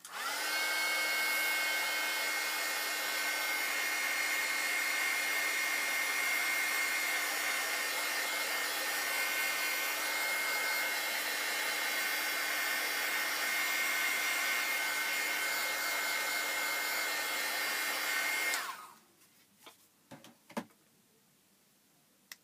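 A dryer blowing steadily on a painted hot glue embellishment, a loud constant whir lasting most of the time before switching off, followed by a few light knocks.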